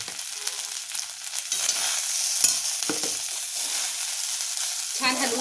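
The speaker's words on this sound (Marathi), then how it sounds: "छान हलवून घ्यायचे आपल्याला सगळ्या बाजूंनी" Jeera rice is stirred and tossed in a hot pan, giving a steady sizzle and scraping of spoon against metal with short bursts of stirring throughout, close and fairly loud.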